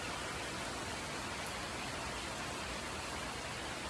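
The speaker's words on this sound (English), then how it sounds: "It's raining." Rain falling outdoors near a campsite tent, a dense, even hiss of countless drops that holds steady and faint throughout with no voices.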